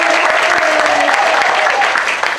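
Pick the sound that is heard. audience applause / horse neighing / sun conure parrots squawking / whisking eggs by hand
audience applause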